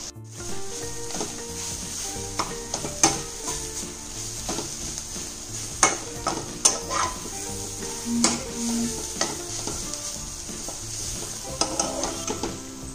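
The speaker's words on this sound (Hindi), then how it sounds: "कम तेल में देखिए पलट पलट कर इसको आप भूनते रहिए" Cluster beans frying in a little oil in a pan, with a steady sizzle and repeated scraping stir strokes and occasional clinks of the utensil against the pan, close and continuous with no talking.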